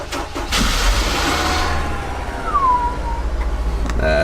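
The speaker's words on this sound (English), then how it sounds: "Engine start." A car engine cranks and catches, roaring into a loud steady idle with a brief whine mixed in.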